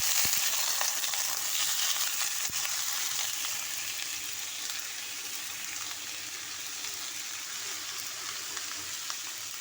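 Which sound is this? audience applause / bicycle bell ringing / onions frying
onions frying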